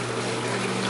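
An Enxuta Automática machine with a replaced timer begins releasing water, giving a steady pump hum mixed with flowing, gurgling water, close and continuous.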